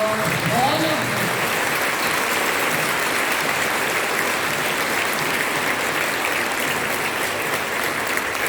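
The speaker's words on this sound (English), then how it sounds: "So a big round of applause for all of them." An audience at a girls' high school Women's Day celebration in India applauds the schoolgirls, with steady, even clapping filling the whole stretch and a brief voice at the very start.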